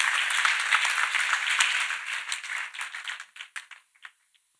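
A congregation claps in praise of Jesus Christ, dense applause that thins into a few scattered, separate claps over about four seconds before falling silent.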